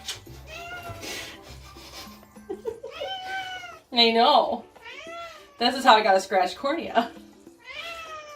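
A pet cat meows repeatedly at home, loud and close, in a series of drawn-out cries and short yowls. A person talks between and over the meows.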